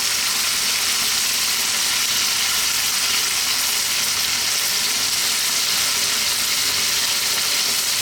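Canned tomatoes hit a hot pan of Italian garlic chicken with black olives, setting off a steady, loud, close sizzle that hisses without a break for several seconds, with no voices.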